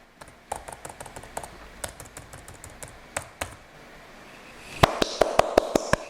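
Computer keyboard keys pressed one at a time in an irregular rhythm while moving a selection in Photoshop, crisp close clicks, then a quicker burst of sharper taps near the end, no voice.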